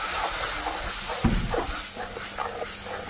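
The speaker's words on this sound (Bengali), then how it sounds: "অল্প একটু জল দিলাম।" A little water goes into a pan of spice paste made from fried onion, ground ginger and green chilli, coriander and turmeric, causing a sudden close burst of loud sizzle and hiss that settles into steady frying, alone.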